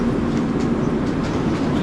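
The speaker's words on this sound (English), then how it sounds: "Just was on this Comet train that came in here." Loud rumbling noise of a commuter train arriving at a station, a low steady drone and faint metallic rattles as a railcar rolls close by.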